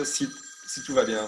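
A telephone rings in short electronic trills during a workshop, heard under someone speaking French nearby.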